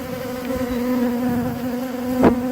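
A steady, close insect buzz drones throughout, a bee hovering near with a brief louder swell toward the end.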